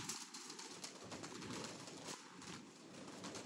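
Pigeons, including flown females kept for sale, give soft repeated cooing at moderate distance, with a few low coo phrases spaced across a steady background hiss.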